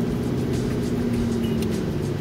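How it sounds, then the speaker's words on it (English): A loud pickup truck engine, apparently in need of repair, drones steadily from close by with a deep, rough rumble and no other sounds. "Besides my loud truck"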